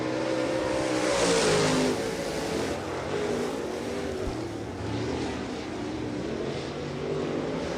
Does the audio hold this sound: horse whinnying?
no